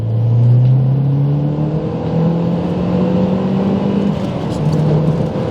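A Stage 1 Mazdaspeed 3 pulling hard from 30 to 70 mph, engine note climbing steadily in pitch under loud wind and road roar, heard from inside the car without talk.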